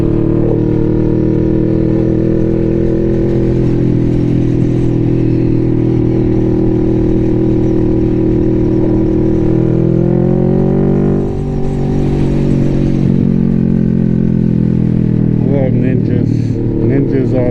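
Kawasaki Ninja motorcycle engine droning steadily while riding, loud and sustained, with revs rising and dipping near the end as the bike maneuvers.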